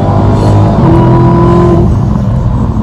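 A 2018 Dodge Challenger SRT muscle car engine at full throttle, loud and close, a sustained rising roar with a climbing pitch through the whole stretch.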